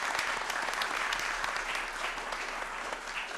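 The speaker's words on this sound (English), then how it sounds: "so please give a round of applause to Mei." Audience applause at a child safeguarding and consent forum, steady dense clapping from a moderate crowd sustained throughout at moderate distance.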